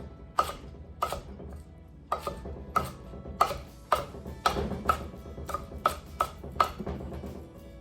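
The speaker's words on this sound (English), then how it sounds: "For our lettuce, we're going to take our knife and we're going to rock it again" Knife rocking back and forth through lettuce on a cutting board for a loose chop, giving a steady series of crisp, close taps, roughly one or two per second, with no talking.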